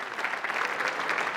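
Audience at the Pan Celtic Festival applauding performers on stage, a brief burst of steady clapping from a crowd.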